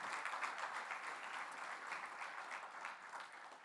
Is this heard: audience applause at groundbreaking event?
yes